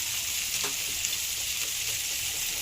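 Green chilies frying in oil in a pan give a steady, even sizzle throughout, with a few soft stirring taps and no voices.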